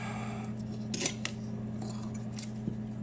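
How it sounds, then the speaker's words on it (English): Scissors or snips cut through the sheathing of electrical cable in a workshop, giving a few crisp, close snipping clicks over a steady background hum, with no talking. "Gonna cut my sheathing here"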